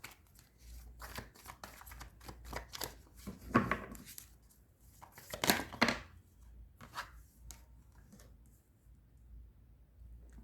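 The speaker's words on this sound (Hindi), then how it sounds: "थोड़ा शफल और कर लेते हैं कार्ड्स को।" Tarot cards are shuffled by hand in soft, irregular riffles and flicks, close but quiet, with brief pauses between bursts and no speech.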